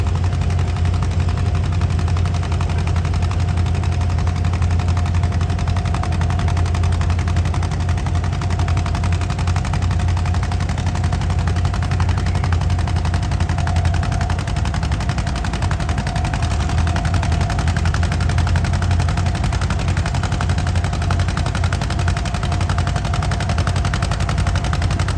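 A 1958 John Deere 520 tractor pulling in an antique tractor pull, its two-cylinder engine pounding loud and steady in a rapid, rhythmic chug that never lets up, with no voices heard.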